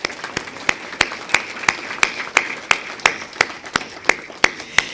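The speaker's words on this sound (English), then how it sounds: "Can we applaud them too, please?" Audience applause for staff at a community college event: sparse, distinct individual claps in a steady rhythm, roughly three per second, close and fairly loud with no talk over them.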